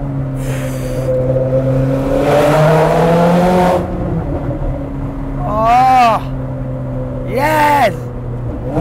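Ferrari 430 Scuderia engine droning loudly inside the cabin while driving, rising in pitch through revs with sharp bursts and pitch sweeps at gear changes, a voice talking between them.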